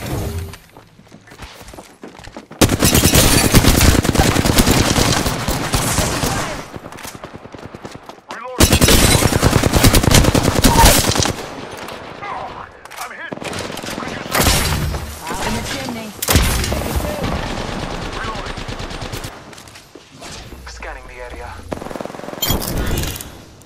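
Apex Legends PC gameplay with loud bursts of automatic gunfire and shattering impacts, coming in several long volleys separated by quieter gaps, with voices talking among the shots.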